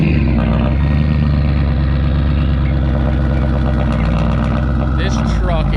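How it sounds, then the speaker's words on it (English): A very loud truck engine rumbles steadily while backing up, a close, deep, continuous roar with some revving texture and no break. "This truck is absolutely insanely loud."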